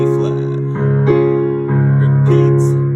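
Sustained piano chords ring out, changing several times in a slow sequence, each new chord struck with a soft attack over lingering tones.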